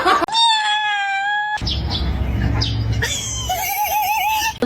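A house cat lets out loud, close, drawn-out wailing cries, one steady and one wavering, separated by a noisy rustling stretch, with no one talking.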